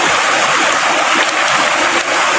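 A river in Carigara, Leyte flows steadily nearby, a dense continuous rushing and gurgling of water with no voices.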